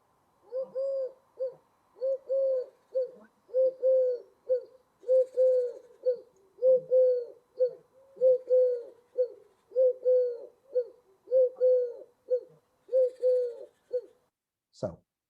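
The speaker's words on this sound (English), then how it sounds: "So here's the song of the collared dove." Clear three-note coos from a collared dove in Monkstown, Ireland, repeat in an even, unhurried rhythm against near silence, ending with a sharp click.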